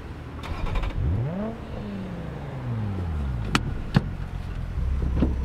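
A car engine starts and revs during a driving test exam, with the pitch rising and falling through a couple of accelerations as it pulls away, plus a few sharp clicks and knocks, close and fairly loud, with no voices.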